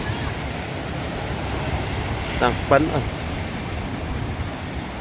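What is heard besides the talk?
river waves splashing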